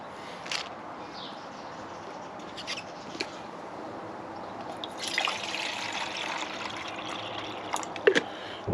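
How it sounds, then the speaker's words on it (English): Water trickles and splashes as roughly a cup's worth is poured into a small pot set on a hexamine stove outdoors, a soft steady pour rising in the second half with a few drips at the end. "I'll put a decent cup's worth of water in there."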